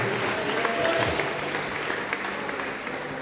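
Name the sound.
church congregation applauding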